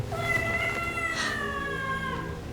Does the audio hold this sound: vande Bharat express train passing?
no